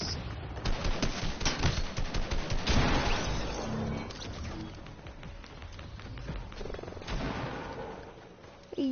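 Gunfire in Fortnite: bursts of rapid rattling shots, a dense volley early on, then sparser pops and another burst near the end, moderately loud.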